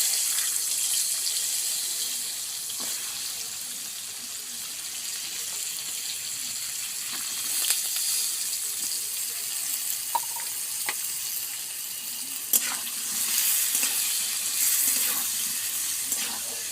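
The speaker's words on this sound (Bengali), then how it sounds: "আমি পটলগুলো ভেজে দেব।" Pointed gourd (potol) pieces frying in oil, a steady soft sizzle running throughout with occasional faint clicks and utensil touches, fairly quiet and without talk.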